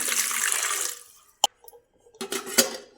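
Water pours briefly into an idli pot holding washed amla for cooking, with a rushing splash, then stops, followed by a metallic clank and a few more splashy clatters.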